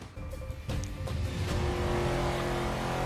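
NASCAR race cars at the Indianapolis Brickyard in Forza 6, engines droning and rising in pitch as the pack accelerates, a steady close roar that grows louder and fills out over the clip.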